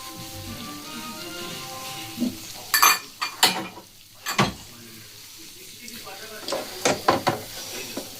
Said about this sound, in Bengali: আর এটাকে সমানে আমি একটুখানি মিশিয়ে নেব